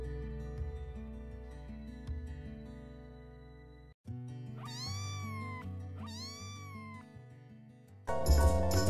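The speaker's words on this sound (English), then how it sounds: "C for cat." Two drawn-out cat meows rise and fall in the middle, clear and close, over a bright children's alphabet song with synth backing, followed by a louder musical burst.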